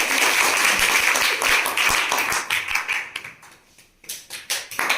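Loud, dense applause from a school audience at a science quiz competition, which thins out and then returns as scattered, separate claps.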